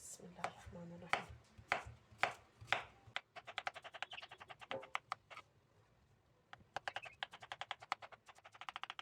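Zucchini is chopped into pieces on a board, a steady run of sharp knife strikes in bursts with brief pauses, close and clear.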